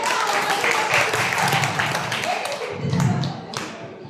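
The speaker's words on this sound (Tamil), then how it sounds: "எல்லாரும் கைத்தட்டல் பண்ணலாமா?" Audience applause at a Bible quiz during an anniversary event: a dense, continuous patter of clapping from a crowd indoors, fairly loud and sustained for several seconds, with voices mixed in beneath.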